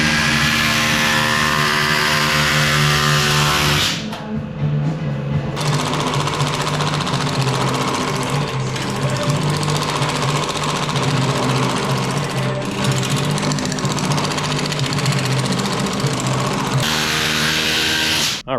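A planishing hammer in a metal shop shaping a small sheet metal flange for a 1937 Ford custom, a loud continuous rapid mechanical hammering buzz that runs for the whole stretch with slight shifts in tone, close and alone.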